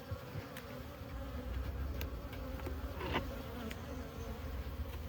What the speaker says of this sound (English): I have some happy bees